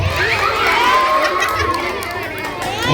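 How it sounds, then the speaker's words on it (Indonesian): An audience at a community outreach event cheers and claps for a participant, a loud crowd roar with shouting children's voices and scattered clapping sustained over a few seconds. "Tepuk tangan buat dia"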